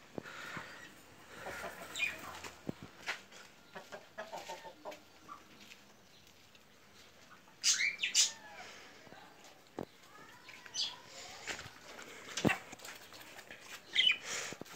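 Cockatiels and Belgian canaries chirp and call in an outdoor aviary, sparse, bright bursts over a quiet background, with a few louder clusters of calls and occasional other animal noises.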